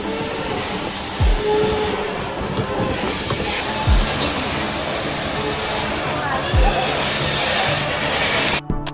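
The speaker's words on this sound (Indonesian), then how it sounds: "Sekarang kita mau coba wahana kereta." An amusement park train ride at Taman Safari Prigen, Indonesia, rumbles along with a steady hiss and rattle, a few low thumps recurring every couple of seconds, and faint voices in the background.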